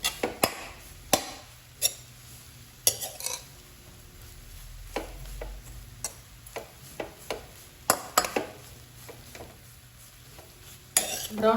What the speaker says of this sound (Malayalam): ഇതുപോലെ ബാലൻസ് ഉള്ള സ്ലൈസ് ചെയ്ത ബ്രെഡും ഇതുപോലെ റോസ്റ്റ് ചെയ്തെടുക്കാം